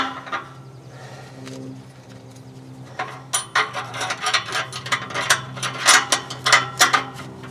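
A ratchet tightens an exhaust muffler clamp on a 2001 Buick Park Avenue, its quick clicking strokes starting after a few seconds and repeating in a steady, close rhythm.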